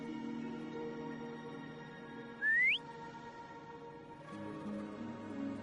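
A single short rising whistle, like a call for a mount in the Wuthering Waves video game, cutting sharply over a sustained musical score and then fading back into the soundtrack.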